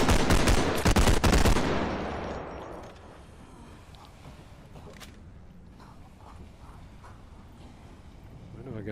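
A gun is fired from the hip in the BodyCam game, a loud burst of rapid shots at the start that cuts off and leaves a long fading tail, followed by quiet ambience and faint talk.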